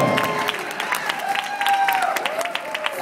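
Audience applause mixed with vocal cheering and whoops from newcomer musicians' crowd, steady clapping with rising voices throughout.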